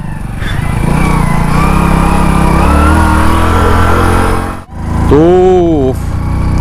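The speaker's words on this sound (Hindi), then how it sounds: "पहली बार मैंने स्प्लेंडर बाइक चलाई।" A Splendor motorcycle engine drones steadily for most of the clip, dips briefly near the end, then returns, with someone talking over the engine throughout.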